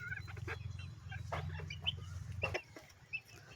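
Country chickens clucking in a small shed, several soft close clucks and calls over a low humming background that stops near the end.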